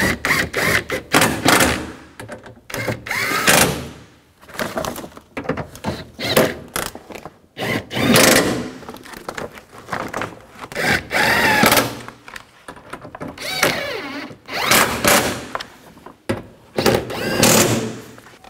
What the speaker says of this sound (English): Now we can go back and tighten all these bolts down for the regulator.